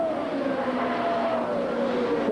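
Race cars scream past on the track at the 1978 USAC Texas Grand Prix while lapping a slower car, a sustained engine whine sliding downward in pitch over steady crowd and track noise, moderately loud.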